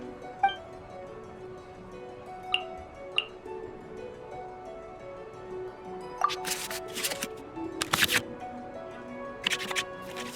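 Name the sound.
cards shuffling into draw pile in Genshin Impact card game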